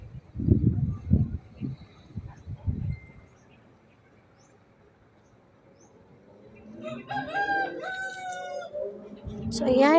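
A rooster crowing at a poultry farm, with a long rising crow near the end following earlier low clucks and short calls; the crow is moderately loud against a quiet background, and some talk briefly overlaps.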